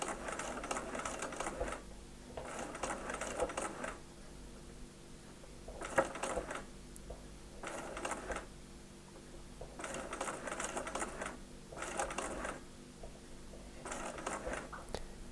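A sewing machine stitches fabric in several separate bursts, each a close, rapid needle chatter lasting a second or two, with quiet pauses between runs.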